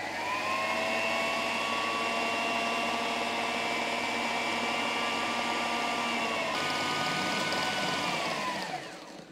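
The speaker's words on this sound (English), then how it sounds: "So after a minute or two in the food processor, it's really going to distribute those vanilla beans throughout your sugar." A food processor blends vanilla beans into a kilo of sugar with a steady, loud motor whine and whirring grind that holds for about eight seconds before winding down at the end; close and alone, without speech.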